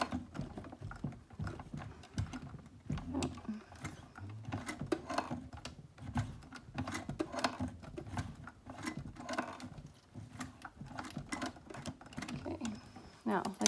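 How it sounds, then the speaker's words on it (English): A sewing machine stitches thick sling fabric in irregular bursts of rapid, close mechanical clatter, with pauses where it is hand-cranked through the heavy layers near the D-ring. "I'll start sewing in the round. As I come up to the D-ring, I'm gonna go to hand cranking because it's thick. My machine will probably balk"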